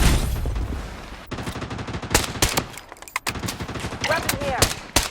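Rapid bursts of gunfire in the shooter game Blood Strike, loud and close, with clusters of sharp shots over a busy battle mix and speech-like game voices.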